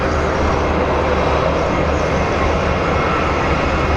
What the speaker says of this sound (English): we have our United Airlines coming in